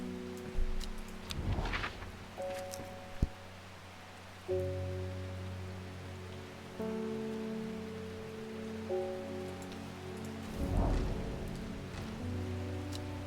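Soft, pattering water sounds from watering plants with a watering can in the game Strange Horticulture come in brief bursts over gentle sustained musical tones, fairly quiet throughout.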